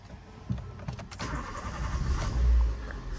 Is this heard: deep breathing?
no